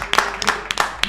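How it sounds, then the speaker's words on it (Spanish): Audience applause for a guest in a broadcast studio, sparse and uneven claps from a modest crowd over a low background hum, close-sounding with a few louder individual claps standing out. "Adriana, este aplauso es para vos."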